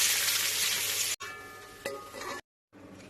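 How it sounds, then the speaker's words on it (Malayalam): Onions fry for biryani in a mix of ghee and oil, with a loud bright sizzle at first. Quieter bursts of stirring and crackle follow, broken by a brief silence. "ഇനി ആ നെയ്യും എണ്ണയുള്ള മിക്സിൽ തന്നെ നമ്മൾ ഉള്ളി വറുത്തെടുക്കണം."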